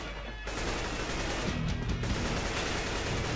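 A continuous spray of automatic gunfire in the video game CS:GO during a 1vs1 Deagle match, loud and dense, rattling steadily for several seconds after a brief pause.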